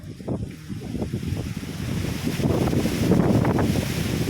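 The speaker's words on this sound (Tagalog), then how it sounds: "Lakas ang hangin." Strong wind on a farm buffets the microphone in gusty low roars that build louder over a few seconds, with no speech.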